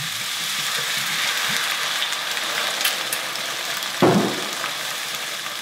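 White wine poured into a hot pan sets off a steady frying sizzle, with a sharper hiss burst partway through as the liquid hits the metal, fading back to a constant crackle.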